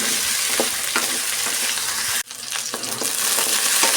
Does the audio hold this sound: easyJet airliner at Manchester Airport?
no